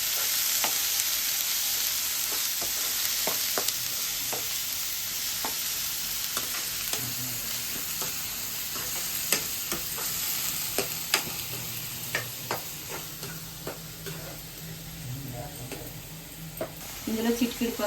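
Onion paste frying and sizzling in a pan for paneer curry, a steady broadband hiss with scattered scrapes and clicks of stirring throughout, fairly close, with no talking.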